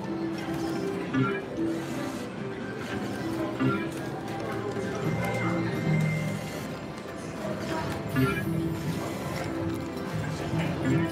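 Electronic clip-clop of galloping horses plays in a busy rhythmic loop from a Dream Jackpot slot machine, mixed with game jingles and chimes, with a voice talking over it.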